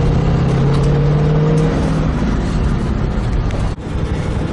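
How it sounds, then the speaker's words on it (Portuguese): A Ford Maverick V8 engine revs hard as the throttle is pressed, a loud, steady roar with a strong low drone that holds for a couple of seconds before easing into a rougher rumble, briefly dipping near the end. "quando você afunda o pé no acelerador"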